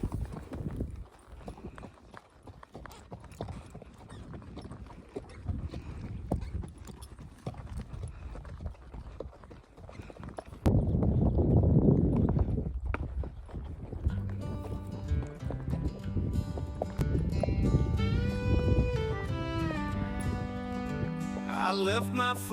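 Horses gallop across the Cappadocia countryside in Turkey with a dense, rapid, close hoof drumming that grows louder midway, and music joins in the later half.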